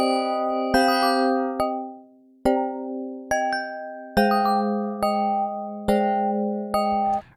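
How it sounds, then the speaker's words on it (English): A modeled felt-bells synth preset plays a slow sequence of soft, mellow struck tones, each note ringing and decaying before the next, about nine hits in a gentle melodic pattern. "Let's try felt bells."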